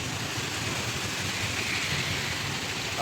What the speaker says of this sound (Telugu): ఈరోజు అనంతపురంలో భారీ వర్షం ఉంది